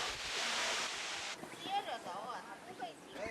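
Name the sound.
waterfall falling from rock cliff at Tianmen Mountain, Zhangjiajie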